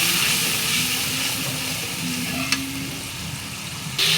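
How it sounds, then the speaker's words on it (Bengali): Onion, ginger-garlic paste, turmeric and a pinch of salt frying in oil, a steady close sizzle running throughout, with a brief utensil tick midway and a sharper burst of hiss near the end. "দিয়ে দিলাম পেঁয়াজ আর তেল, দিয়ে দিলাম আদা রসুন বাটা, হলুদের ফাঁকি, দিয়ে দিলাম অল্প একটু লবণ,"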